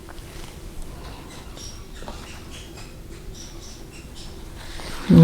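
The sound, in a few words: squeaky dog toy played with by a puppy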